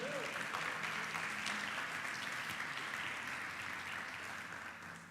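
Congregation in a Brazilian church applauding at a family service, a steady, fairly quiet roar of many hands clapping together, sustained evenly throughout.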